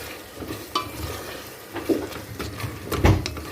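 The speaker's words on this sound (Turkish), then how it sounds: "Hepsini şöyle karıştıralım" Spices such as black pepper and lemon salt being stirred into food in a pan, a few soft scraping clinks over a faint sizzle, close and moderately quiet, with a louder scrape near the end.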